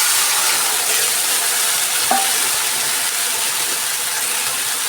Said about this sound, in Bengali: এটাকে একটু ভেজে নেব ফোড়নটা